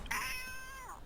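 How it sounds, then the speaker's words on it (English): A cat from the King's Quest III adventure game gives one drawn-out, wavering meow lasting about a second, loud and clear with no other sound around it. "Nimbly you grab the nasty cat by the scruff of its neck, avoiding its needle-sharp claws"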